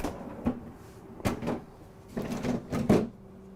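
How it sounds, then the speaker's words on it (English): A refrigerator freezer drawer in a 2022 Newmar Ventana 4334 RV is handled with several close knocks and sliding rattles, a few sharp bumps spread over a few seconds, with no talking. "freezer drawer down below."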